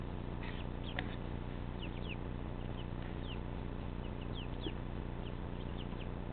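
Young Ameraucana, Golden Comet and Rhode Island Red pullets on their first night in the coop, giving faint scattered chirps and soft clucks over a steady low background hum.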